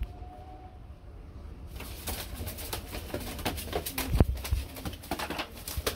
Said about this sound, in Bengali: অরিজিনাল লুটন কবুতর, অরিজিনাল।